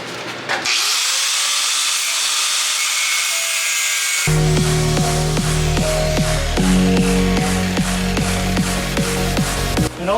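Power grinder whining at a high steady pitch, then biting into work with a louder, rougher grinding that pulses rhythmically, close and loud with no talking.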